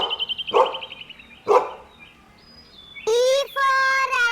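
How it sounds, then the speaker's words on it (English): A dog barks a few times in short loud bursts, followed by high bird-like chirping tones near the end. "D for dog"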